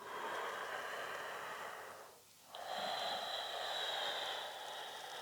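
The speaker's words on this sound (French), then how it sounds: "Toujours avec la respiration Ujjayi bien présente." Slow, steady ujjayi breathing during vinyasa yoga, with a hushed, ocean-like rasp, a long exhale fading to a brief pause before the next breath draws in, close and quiet.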